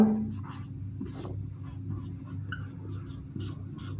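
A pen writes close by with quick scratchy strokes in short bursts and brief pauses between them, while a voice talks quietly in the background.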